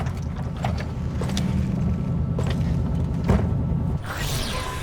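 A vehicle engine idles in Cyberpunk 2077, a steady low rumble with mechanical clicking and ratcheting textures layered over it, holding close and continuous throughout.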